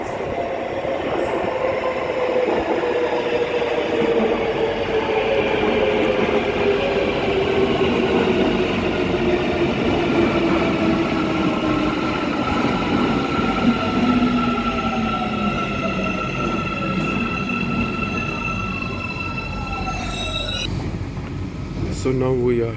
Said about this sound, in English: So now we are inside the metro.